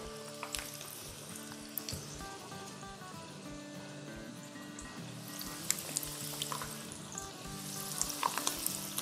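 Potato rings deep frying in hot oil give a steady, bubbling sizzle, with a few faint kitchen clinks and a short run of tonal hum and tapping. There is no talking.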